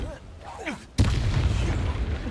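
A spell blast goes off in a Harry Potter-style video game, a sudden loud boom about a second in that rolls into a sustained rumbling roar, with a voice calling out just before the burst.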